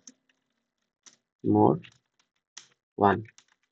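Short bursts of clicks from a computer keyboard as a keyword is typed, light and close, separated by gaps, with a voice speaking in between.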